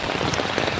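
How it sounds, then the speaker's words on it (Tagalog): Heavy rain pours down in Hong Kong, a dense, close, steady patter of drops striking the ground and nearby surfaces, with no voices. "Naabot ng ulan. Ulan, ulan, ulan."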